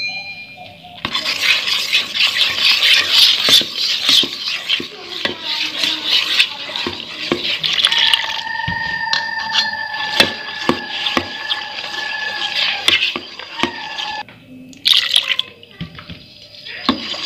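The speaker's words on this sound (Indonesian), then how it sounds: "kita masukkan air sedikit demi sedikit" Water is poured in gradually and stirred into martabak dough in a bowl, giving close scraping, clinking and sloshing sounds with small drips, first busy and dense, then lighter and intermittent, with no talking.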